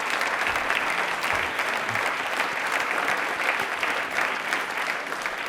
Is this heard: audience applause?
yes